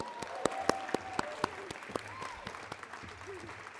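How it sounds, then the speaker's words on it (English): Sharp individual claps ring out close by at an awards show honoring DasGupta Punjabi School, spaced fairly evenly over a quieter crowd bed, with voices and tonal sounds weaving through. "DasGupta Punjabi School, let's give them a round of applause."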